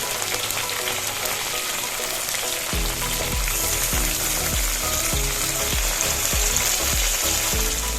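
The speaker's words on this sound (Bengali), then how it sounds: "সামান্য নুন আর হলুদ দিয়ে আমি পটলগুলোকে ভালো করে একটু ভেজে নেব।" Pointed gourd pieces seasoned with salt and turmeric fry in hot oil, giving a loud, steady close-up sizzle with a run of rhythmic scraping stirs through the second half.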